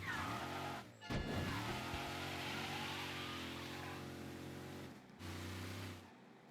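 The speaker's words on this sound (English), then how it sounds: "Why is my car making this nasty squelching noise?" A car in the video game Mafia III: Definitive Edition makes a droning, squelching engine tone with shifting pitch, steady throughout apart from two short breaks where the sound cuts out, quiet and without speech.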